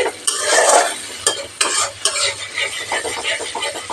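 Tomato stir-fried over medium heat in a pan, loud close sizzling broken by repeated sharp scrapes and taps of the spatula at a fairly regular pace.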